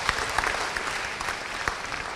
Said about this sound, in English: give a round of applause for Ambiente for donating the accommodations